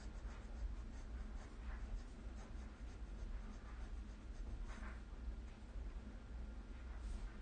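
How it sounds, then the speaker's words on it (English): A pen scratches cursive letters onto paper up close, a soft continuous scraping with small swelling strokes across the moment, quiet and without speech. "I hate writing R's."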